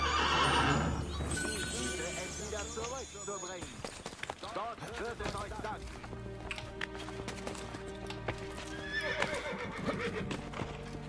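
A horse in Assassin's Creed Brotherhood clip-clops at a gallop and gives a loud whinny near the start, with hoofbeats and game sounds continuing under someone talking in German.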